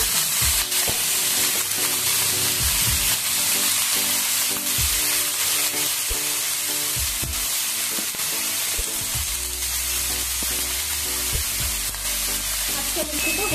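Raw pumpkin sizzling and frying in a hot pan with oil, loud and steady throughout, with scraping stirs and occasional clatters of a spoon against the pan close by.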